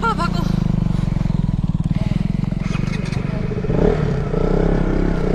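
A motorcycle ridden slowly and carefully, its engine chugging in an even low pulse throughout, with a brief swell of revving near the end and faint clatter around it.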